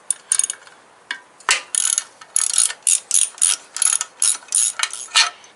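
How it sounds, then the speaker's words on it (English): Close, loud ratcheting of a 5/16 Allen wrench backing out the larger battery bolt on a Harley-Davidson Sportster, in a rapid series of short clicking bursts with brief pauses, no talking. "first thing we're going to do is remove this larger one. Takes a 5/16 Allen wrench."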